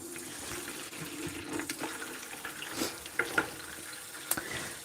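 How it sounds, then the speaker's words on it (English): Water pours from a pitcher into a cooking pot while a New England boiled chicken dinner is being made. A faint, trickling splash runs with small clinks and drips in a quiet kitchen. "now I need to put some water in the pot"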